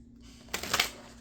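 A short burst of tarot cards being shuffled by hand in a quiet room, a soft riffling flutter lasting about half a second, close and fairly faint.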